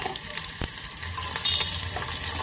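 Onions and green chillies frying in hot oil for an eggplant, potato and tomato curry, giving a steady, moderately loud sizzle with sharp crackling bursts and brief stirring clatter throughout.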